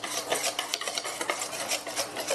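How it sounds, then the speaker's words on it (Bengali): Lentil batter for jackfruit muitha is whisked hard in a bowl, a loud, continuous, busy scraping and slapping with quick repeated strokes and no voices. "এবার এই ডালের মধ্যে ডালটা আমি খুব ভালো করে ফেটিয়ে নিচ্ছি।"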